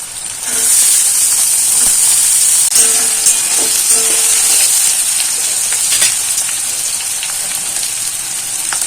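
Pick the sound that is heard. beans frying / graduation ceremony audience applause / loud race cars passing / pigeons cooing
beans frying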